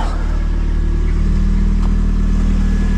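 A Lada Priora 16-valve car engine drones steadily while driving, with a constant low hum and road rumble throughout. The level never changes, and no one speaks.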